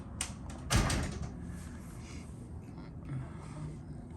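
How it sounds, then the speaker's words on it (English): A door in an office building opens with one sharp clunk near the start, followed by a faint sliding rumble and quiet room noise. "Yeah, maybe the doorbell opens that door."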